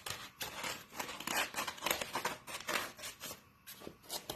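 Scissors snip through folded paper to cut out a heart shape, a close series of quick crisp blade strokes in an irregular rhythm, steady and unaccompanied by talk.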